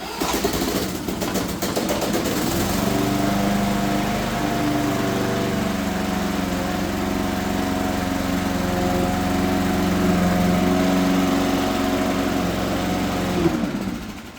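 A 1980s lawn mower engine that had failed to start sputters to life after a short cranking burst, then runs steadily at a loud, buzzing idle close by for over ten seconds before cutting off.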